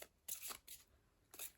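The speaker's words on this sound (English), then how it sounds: "I keep shuffling out off screen" Tarot cards being shuffled off to one side, three quick papery riffling bursts with short pauses between them, close and fairly quiet, with no talking over them.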